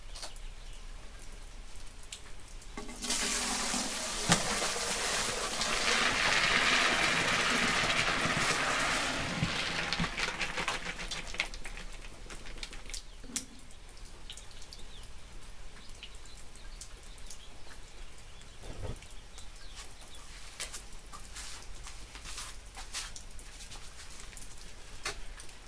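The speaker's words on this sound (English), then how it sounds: "Tell the rain's picking up, corn's on the boil, water's up and boiling now" Steady rain patters on a surface outdoors, loudest early on and then easing to a softer hiss. It falls near a pot of field corn set to boil as carp bait, while a few birds call faintly.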